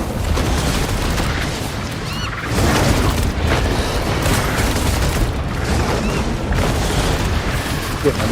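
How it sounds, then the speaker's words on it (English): Mortar explosions in a video game, dense rolling booms and heavy blasts that overlap into an almost continuous barrage, with a voice talking over the gunfire. "my mortars are just wrecking them"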